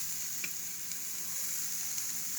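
Mushrooms fry in a pan with a steady, close hiss and crackle that holds level throughout, with no voices.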